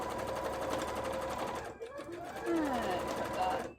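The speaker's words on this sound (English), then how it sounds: "Just keep sewing that around." A sewing machine runs steadily while stitching a Haunter-themed bra, its rapid mechanical rattle pausing briefly before resuming, with a person talking over it and a high squeak sliding down midway.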